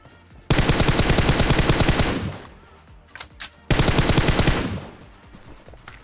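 Automatic gunfire in the mobile battle royale game PUBG Mobile: two loud, rapid bursts of close shots, each lasting about two seconds, separated by a brief lull with a few faint clicks.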